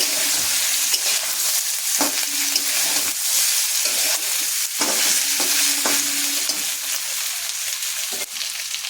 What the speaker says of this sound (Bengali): আলুর সঙ্গে ভালো করে মশলাটা মিশিয়ে নিতে হবে এইভাবে।